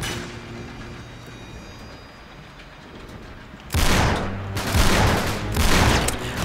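Video game gunfire in Uncharted: Drake's Deception breaks out after a quieter stretch as a loud, dense burst of shots, continuing in heavy volleys to the end.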